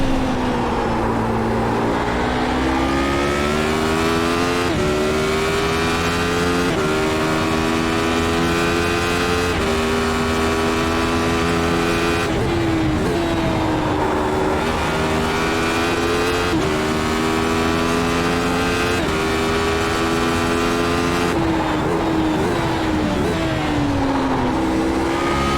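A Radical SR8 race car engine screams around Imola in the iRacing sim, rising and falling through repeated gear changes, with high-revving pulls, quick shifts and downshifts in a continuous loud cockpit drone.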